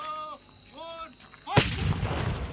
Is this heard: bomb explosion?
yes